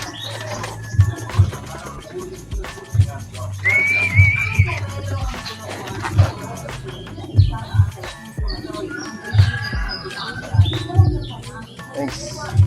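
Racing pigeons circle and coo at a pigeon race finish, with soft repeated low coos and scattered chirps under steady outdoor background noise and a voice.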